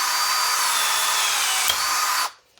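A Yuhtech riveter pulling a rivet makes a steady, loud, close mechanical whir for about two seconds, with a small click partway through, before cutting off abruptly into near silence.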